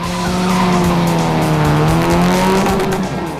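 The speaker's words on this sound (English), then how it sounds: "There was plenty of wasteful wheel spin" A 2012 Toyota Etios race car launches as the clutch is dumped at 4000 RPM, with a loud, sustained tire squeal as the wheels spin and the engine roaring close by throughout.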